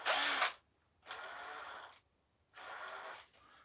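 A power drill whirs in three separate bursts, each about half a second to a second long with short silent gaps between, close and fairly loud with a high motor whine.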